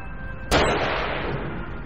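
A single sharp gunshot-like blast from an enemy in the survival horror game The Evil Within, loud and sudden after a low rumbling ambience, followed by a long decaying echo.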